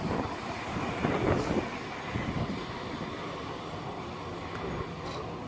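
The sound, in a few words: Edinburgh tram passing at Edinburgh Park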